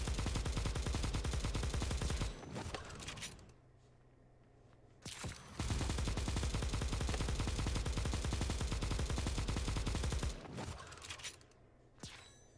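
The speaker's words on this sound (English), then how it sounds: "I'm gonna go ahead and use suppressive fire." Suppressive fire in the mobile shooter Bullet Echo, two long bursts of rapid automatic gunfire with a short quiet gap between and another brief burst near the end.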